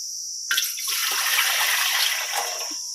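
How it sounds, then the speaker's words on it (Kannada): Drinking water gushes into the base of a pressure cooker used as an idli steamer for making ginna, a continuous close splashing pour that starts abruptly and runs for a few seconds without speech. "ಈ ಪ್ಲೇಟ್ ಮುಳುಗುವಷ್ಟು ನೀರು ಹಾಕೊಂಡ್ರೆ ಸಾಕು"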